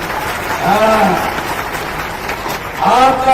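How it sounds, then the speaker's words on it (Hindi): A crowd at an outdoor political election rally claps steadily, with loud shouts rising over the applause twice. "अरे बजाओ ताली।"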